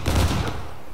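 A short, loud burst of overlapping musket fire in the Civil War battle game War of Rights, a ragged volley that booms and quickly fades.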